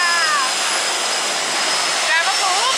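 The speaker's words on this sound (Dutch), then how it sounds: "wat we horen zijn vliegtuigen, dus watervliegtuigen dus." Seaplanes fly over the Maldives with a loud, continuous engine roar overhead that swells slightly toward the end, while people speak faintly beneath it.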